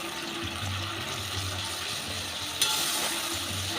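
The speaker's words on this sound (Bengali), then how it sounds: "দিয়ে টমেটোর সাথে ভালো করে কষিয়ে নেব" Tomato fries with turmeric and Kashmiri chilli powder for a pabda fish curry, making a continuous close sizzle and bubbling with one sharp scrape near the end and no talking.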